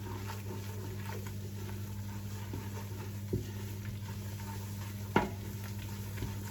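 A roux of 200 grams of butter and 200 grams of flour is stirred in a pan for lasagne, giving a steady soft sizzle and scraping with a few sharper spoon knocks against the pan. No one speaks.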